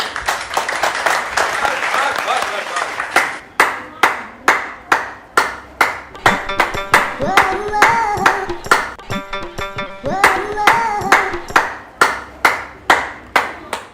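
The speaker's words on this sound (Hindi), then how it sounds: "हमारी पुलिस की टीम को तो ताली बजाइए सबके लिए" Crowd applause for doctors and police at a gathering: loud rhythmic group clapping in bursts and steady volleys throughout, with some voices mixed in underneath.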